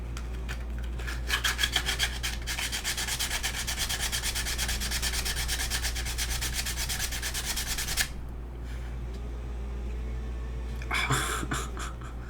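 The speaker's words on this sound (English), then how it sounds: "Now, I can use some of the sandpaper. Scuff up these edges so this doesn't pop off again." Sandpaper scuffs the edges of a Game Boy front cover in a quick, even run of rasping rubbing strokes lasting several seconds, close and clear. A shorter burst of scraping follows after a brief pause.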